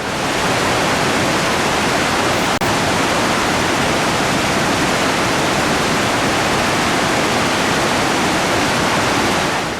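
Whitewater rapids where the water folds in on itself, a loud, steady, dense rushing roar that fills the whole stretch without pause.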